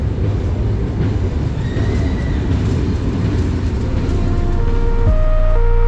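Rupasi Bangla Express passenger train running on its route from Dhaka over the Padma Bridge toward Benapole, heard as a steady, loud rolling rumble throughout, with a thin tonal whine rising near the end and no talking.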